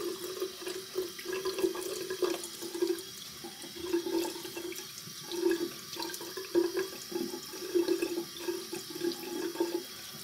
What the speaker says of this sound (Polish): Umyję w tym czasie pędzel i michę po goleniu.